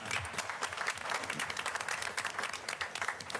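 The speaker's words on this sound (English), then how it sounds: "Can we give them a round of applause?" An audience at a public meeting breaks into applause, a moderate patter of many hands clapping steadily for a few seconds, heard from somewhat far.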